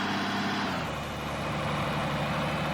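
A vehicle engine idles in the eXpanSIM driving simulator game, a steady low rumble with a faint rhythmic pulse, continuous and moderately loud with no voices.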